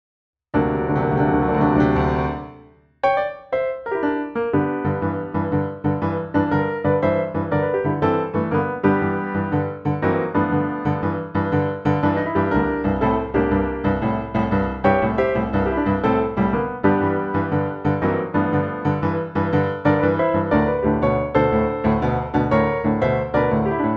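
Blues piano playing a 12-bar tune with a dense, rolling boogie rhythm, loud and close, starting after a short opening chord and pause.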